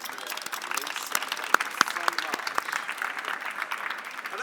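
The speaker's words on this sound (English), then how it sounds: "Round of applause for" An audience at a talk on AI hacks gives a round of applause, scattered distinct claps with voices talking over them.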